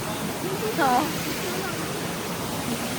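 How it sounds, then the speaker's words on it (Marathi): A waterfall with strong, forceful water sends up a loud, steady roar that runs without a break, with a brief call heard over it. "हे बघा पाण्याचा फोर्स खूप आहे"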